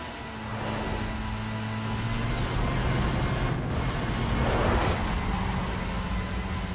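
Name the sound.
car engine in Need for Speed Most Wanted video game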